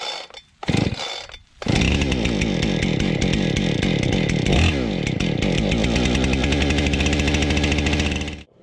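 A Husqvarna 455 Rancher chainsaw is pulled a couple of times, then fires and runs loud and close, revving up and settling into a sustained buzzing roar with a brief dip in pitch midway.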